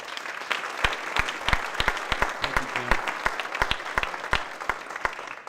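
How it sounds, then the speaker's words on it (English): A crowd claps enthusiastically, with many sharp, distinct hand claps overlapping steadily and staying fairly loud throughout. "Give him a big applause."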